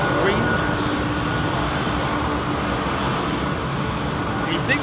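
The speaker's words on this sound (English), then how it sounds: "You think those engine noises that you hear, actually the 767 behind this 350 folks." Steady broadband roar of Boeing 767 jet engines heard at London Heathrow airport, a continuous rumble holding level throughout, with a voice speaking over it.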